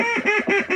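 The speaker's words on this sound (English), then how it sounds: "we got some ducks around now" Ducks quack in a rapid series of nasal calls, close and fairly loud, with three bursts in under a second during a dark wildfowling outing near a sandbank.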